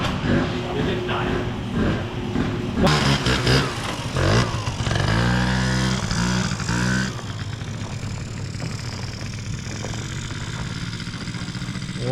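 A moped engine idles with a continuous low mechanical putter, louder and busier in the middle with some revving, then settling to a quieter steady idle; people talk and shout over it.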